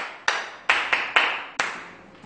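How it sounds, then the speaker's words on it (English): A handful of sharp, separate claps in an irregular run of about five, close and ringing, as children in a kindergarten maths class clap for themselves. "Clap for yourself."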